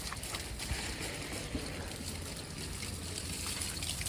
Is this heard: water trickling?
yes